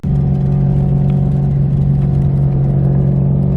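A Scion FR-S with a swapped 6.2-liter V8 pulls hard, its engine a loud, steady low drone that holds constant throughout with no pauses.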